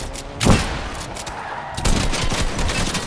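Submachine gun fire in a PS5 shooter game comes in two loud, close bursts. A rapid volley sounds first, and a longer, rattling stretch of shots follows after a short gap.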